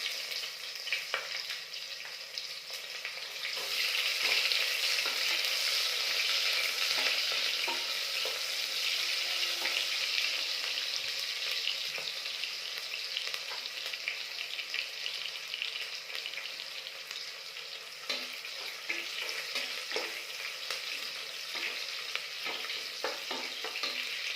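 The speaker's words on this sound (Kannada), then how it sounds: "ಇದನ್ನು ಸ್ವಲ್ಪ ಫ್ರೈ ಮಾಡಿ ಮತ್ತು ಇದಕ್ಕೆ ಈರುಳ್ಳಿ ಹಾಕ್ತಾ ಇದ್ದೀನಿ." Onions fry with bay leaf in a pan for a methi rice dish, giving a steady close sizzle with occasional stirring scrapes and crackles throughout.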